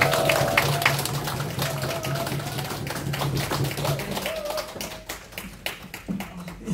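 Audience clapping at a health supplement seminar in Busan welcoming a company president, a steady run of claps that thins toward the end into scattered taps, with a faint voice and hum underneath.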